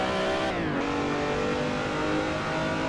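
A car engine revs loudly and steadily while drifting with the handbrake in the Assetto Corsa racing game. Its pitch drops once early, then holds a sustained roar with no voices.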